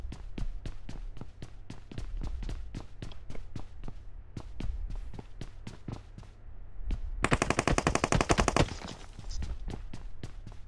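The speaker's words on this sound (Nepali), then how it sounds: "कहाँबाट ठिङ ठिङ ठिङ हान्दैछ" Rapid video-game gunfire in PUBG Mobile, a long run of evenly spaced loud single shots followed by a dense burst of automatic fire, then more shots.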